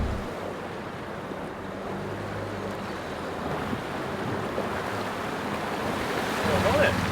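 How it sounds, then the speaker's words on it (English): A 4x4 fords a deep river crossing at Sundown National 4x4 Park in Queensland, with a continuous rushing, surging wash of water against the vehicle and a low engine drone beneath, steady and close throughout. "Good to have some deep river crossings."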